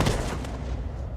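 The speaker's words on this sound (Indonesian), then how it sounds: "Seketika Jerry akan menembak Jack" Gunfire in a crime thriller about a robber's revenge after betrayal by his gang: a dense, loud burst of shots and blast noise filling the whole short moment, with no talking.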